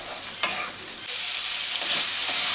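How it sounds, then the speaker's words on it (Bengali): Fried potato and elephant foot yam being stir-fried with spice paste for a Bengali ol dalna, a steady loud sizzle with several scraping stirs of the spatula across the pan, close and without talk. "এবার আলু আর ওলটা মশলার সাথে একটু ভালো করে মিশিয়ে নেব"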